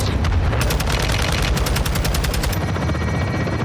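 Sustained heavy automatic fire in Call of Duty Modern Warfare II, a dense, loud machine-gun stream with rapid pulsing shots over a constant rumbling roar, easing slightly toward the end.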